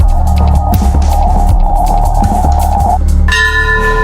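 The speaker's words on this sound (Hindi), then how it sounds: "शंखों की आवाजें गूंज रही थी और घंटियों का शोर" Temple bells ring amid a throbbing hum at a crowded Hindu cave shrine, loud and reverberant, with a bright sustained bell tone breaking in near the end; a conch is not distinct.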